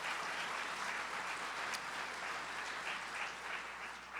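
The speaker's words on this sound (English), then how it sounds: "Let's give him a round of applause." Faint, steady applause from an audience at a school administrators' summer conference general session, continuous with no talking.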